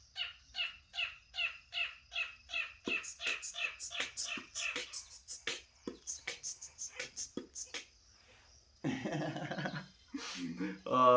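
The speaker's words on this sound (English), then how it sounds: "Birds and their melodies." A bird repeats a rhythmic series of sharp chirping notes, then quicker varied trills follow; quiet and fairly close, with a voice briefly near the end.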